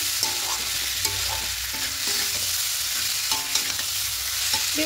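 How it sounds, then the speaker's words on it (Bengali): Spice masala sautéing in a pan for a cauliflower, potato and egg curry, a steady sizzle broken by repeated scraping stirs, close and fairly loud, with no talk. "একটু হালকা করে কষিয়ে নেব।"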